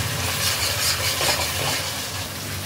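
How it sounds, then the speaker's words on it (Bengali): Chopped tomato stir-fried with spices in a pan while making chicken do pyaza, a steady close sizzle with soft stirring scrapes, no talking. "টমেটো কুচিটাকে দিয়ে এটাকেও মশলার সাথে ভালো করে কষাতে হবে যতক্ষণ না টমেটোটা একদম নরম হয়ে যাচ্ছে।"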